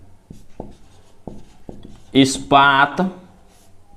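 Pen strokes writing out a maths solution, heard as a series of sharp, evenly spaced taps and scratches on paper, followed by someone speaking close by.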